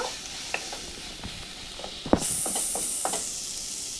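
Chicken with chopped onion stirred in a little oil for a tomato chicken dish, a soft steady sizzle under irregular scraping spoon strokes, with a brighter hiss rising near the end.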